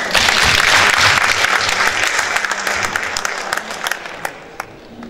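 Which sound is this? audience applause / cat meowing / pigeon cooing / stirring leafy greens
audience applause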